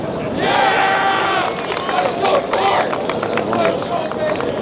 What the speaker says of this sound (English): It's a little mock cheer there on 16